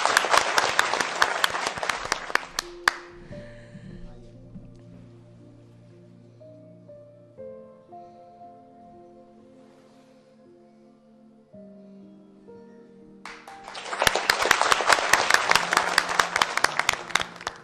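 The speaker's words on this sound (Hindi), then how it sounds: "जी आप सब की तालियों में मैं दावत देती हूँ खलील कासी साहब को" Audience applause at a Pakistan Television 58th anniversary stage event, loud dense clapping at the start, then a musical interlude of sustained tones, and a second loud burst of clapping near the end.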